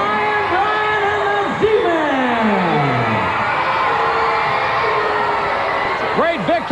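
Arena crowd at a World Championship Wrestling event roars and cheers steadily after a tag-team match ends, with dense layered shouting and whoops throughout and a commentator talking over the din.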